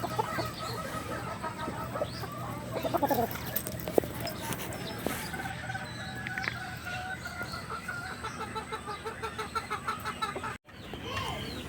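Heritage chickens clucking and calling while they are fed scrambled feed, with scattered close clucks and a few crowing-like calls over a busy farmyard background, while someone speaks throughout.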